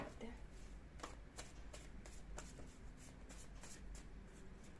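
Angel cards shuffled for a reading, a run of soft, quick papery riffles and flicks repeating steadily at close range over a faint background hum.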